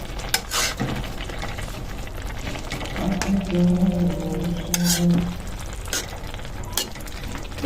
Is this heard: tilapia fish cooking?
yes